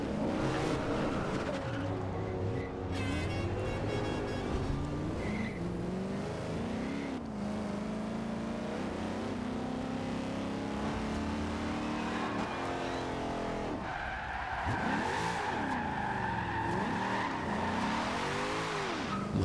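A car in Forza Horizon 2 drifts for a long stretch, the engine revving and wavering in pitch while the tires squeal steadily and loudly.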